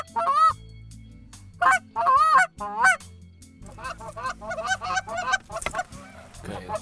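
Migrating geese honk on the Saskatchewan prairie, loud close calls in short bursts at first, then a busier overlapping chorus of honking.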